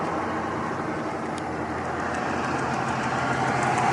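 A 2007 Dodge Ram 3500 with a 6.7-liter Cummins turbo diesel, cold air intake and six-speed manual sits idling, giving a steady, moderately quiet broadband rumble and hiss with no talk over it.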